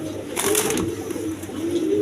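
Pigeons kept as a pair give low, rolling coos that run steadily, with a brief scuffle of wings or feet near the start, heard up close with no talking.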